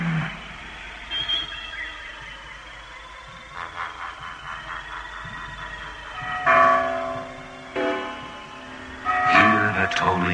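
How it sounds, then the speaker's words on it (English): Iron church bells toll in a slow, resonant rhythm, their ringing swelling louder toward the end amid a dense, layered background with faint voices. "Hear the tolling of the bells, iron bells."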